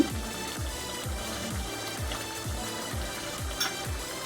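Ghee added to a simmering potato curry in a pan, a soft continuous sizzle and bubbling hiss with low repeated thumps beneath, close and steady throughout without any voices.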